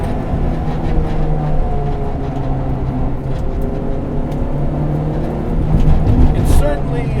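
A Honda Civic EG hatchback with a K24 engine swap and 2.5-inch exhaust drones loudly from inside the cabin while driving, a steady engine hum that swells toward the end.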